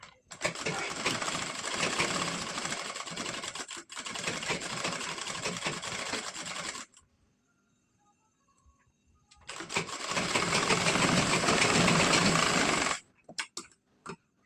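Sewing machine stitching a princess cut blouse, running in two long steady bursts separated by a quiet pause, then a third run that stops abruptly with a few short clicks at the end.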